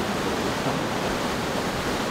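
A river swollen and rushing after rain, a steady, dense roar of churning water that holds at the same level throughout, with no voices.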